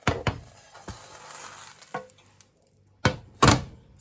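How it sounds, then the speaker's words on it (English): Spinach and oats crepe sizzling faintly in a pan, with a few sharp knocks and thumps of the pan and spatula as it is flipped, heard alone without talk. "So now I'm going to flip this one over."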